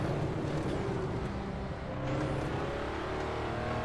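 A RUF Yellowbird engine in the Assetto Corsa racing game on the Nordschleife, droning steadily and loudly under power with a continuous rising whine through the stretch, no talk.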